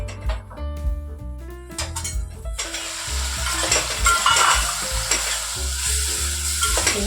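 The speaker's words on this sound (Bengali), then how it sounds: "ভালো করে খানিকক্ষণ কষিয়ে নেব" Bengali-style spice paste being sautéed in a pan with loud, continuous sizzling and frying, repeated spoon scrapes and clinks against the metal, with no voices.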